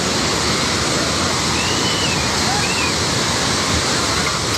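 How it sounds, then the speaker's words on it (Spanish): Rushing flood water sweeping away buses and buildings, a loud, dense and continuous roar of churning water heard close up, with a few faint tonal cries in the background. "Esto es el sonido del agua, llevándose por delante autobuses, edificios, la gente corriendo."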